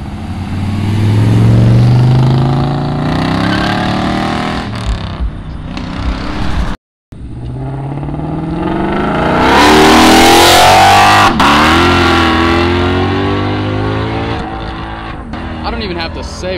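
A loud car revving hard at a Cars and Coffee meet in Fairfield, Ohio, its engine roaring and swelling close by as voices talk over it, with a brief cut partway through.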